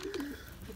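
Pigeons coo with a low, soft, throaty call, a brief rolling burble heard up close over faint background noise.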